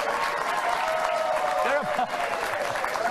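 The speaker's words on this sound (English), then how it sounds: "They are applauding for the mafia." A studio audience applauds on a late-night talk show, steady clapping throughout with someone speaking over it.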